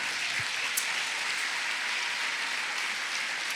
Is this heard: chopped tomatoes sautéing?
no